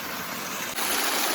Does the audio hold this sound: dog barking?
no